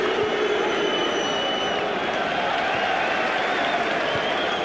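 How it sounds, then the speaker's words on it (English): Kilmarnock supporters boo Caldwell in a football stadium, a dense continuous crowd roar from many voices that holds steady throughout. "Caldwell is getting booed by the Kilmarnock fans"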